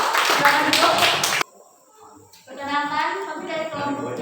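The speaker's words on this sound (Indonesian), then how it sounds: "Tepuk tangan sekali lagi." Classroom clapping after a group presentation, a dense burst of many hands that stops abruptly after about a second and a half, followed by voices talking.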